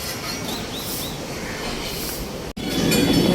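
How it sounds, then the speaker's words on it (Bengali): A train runs along the line near Babughat, a steady loud rumble and rolling of carriages that swells heavier near the end after a brief dropout. "এখান থেকে ট্রেন যায়।"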